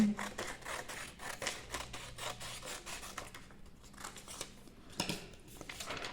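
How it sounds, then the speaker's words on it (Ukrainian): Scissors cutting a strip of blue paper for a craft applique, giving repeated close, soft snipping and rubbing strokes in a steady rhythm with no talk. "Відрізаємо смужку з синього паперу."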